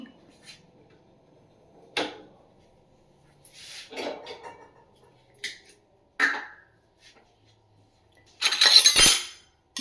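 A cup and spoon clink while coffee is made in a home kitchen: scattered light taps and clinks with quiet gaps between them, then a louder, longer rattle near the end.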